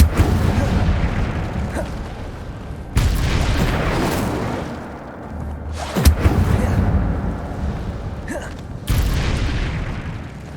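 Incendio, the fire spell in Hogwarts Legacy, is cast repeatedly, each one a forceful booming burst. Several blasts come a few seconds apart, with crackling roar between them.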